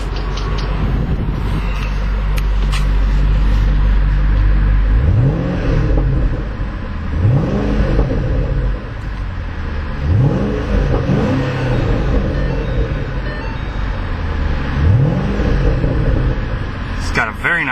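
A 2010 Shelby GT500 coupe's 5.4-litre V8 revs repeatedly over a steady idle rumble, with about five sharp throttle blips rising and falling in sequence, loud and close.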